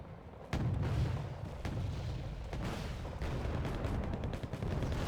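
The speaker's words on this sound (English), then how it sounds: "I think that's just the Chinese napalm artillery." Chinese napalm artillery firing in the video game Wargame Red Dragon: a run of deep, rumbling booms and blasts that overlap each other, fairly loud and continuous, with no talking.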